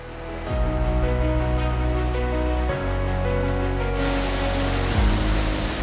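Water from the Punnampuzha and Pandiyar rivers rushes in a loud, steady broadband roar, with a sustained tonal drone of music running over it throughout.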